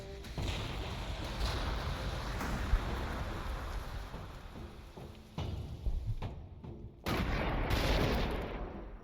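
Heavy artillery bombards battlements in Warhammer 40K Gladius, a dense rolling barrage of booms and crackling blasts that drops out briefly and then surges back loud.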